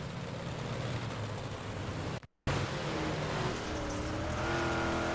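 A number 40 Big Block Modified race car with a pushed-in rear bumper bar roars loudly and steadily at Fairbury Speedway, heard on board, with a sudden brief cut in the sound midway.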